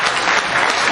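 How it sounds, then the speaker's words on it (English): A brief burst of dense audience applause, loud and continuous for about a second. "Y'all give a round of applause for that"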